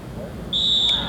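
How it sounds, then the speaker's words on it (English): A referee's whistle at a 1985 community college basketball game blows one sharp, steady shrill blast halfway through, heard over gym crowd noise. "We've got a whistle before the shot"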